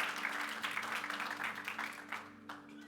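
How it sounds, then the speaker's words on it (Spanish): Applause from a congregation at a Christian church service, a fairly quiet wash of clapping over a steady background hum that thins out toward the end. "Denle ese aplauso fuerte a Cristo porque Él es maravilloso."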